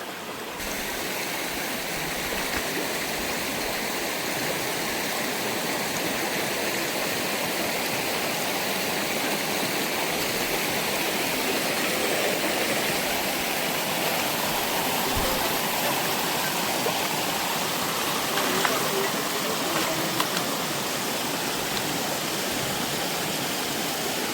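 Floodwater pours across a farm field at Pimpri Pendhar after a blocked culvert diverted it, making a loud, continuous rushing hiss for the whole stretch with no talking.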